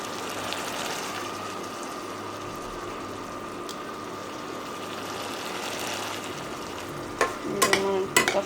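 Handmade dried fish curry sizzles steadily in a pan, a close frying hiss, then a few clattering stirs of the spoon against the pan near the end.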